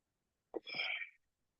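A single sharp sneeze, close and brief, with a quick intake followed by a burst, alone in a quiet room.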